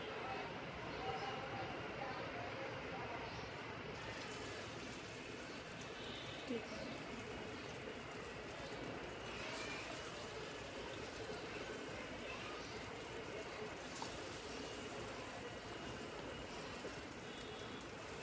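Malabar spinach pakoras fry in hot oil, giving off a continuous rain-like crackle and sizzle that holds steady throughout while someone talks over it.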